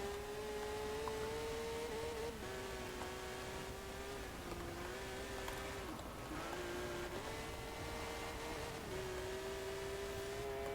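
Porsche 911 GT3 RS drifting in Forza Horizon 4, a steady loud engine drone holding a high rev with small pitch dips and rises as the car slides through corners, continuous with no pauses.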